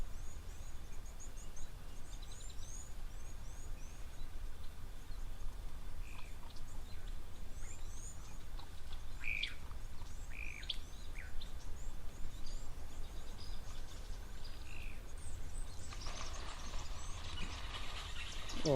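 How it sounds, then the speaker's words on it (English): Faint go-away bird calls come and go over a steady outdoor hiss at a waterhole, scattered and distant, with no voices. "love just listening to the sounds, especially the go-away birds"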